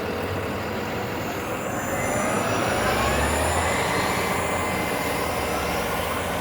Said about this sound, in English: Carlton streetcar, named after Carlton Street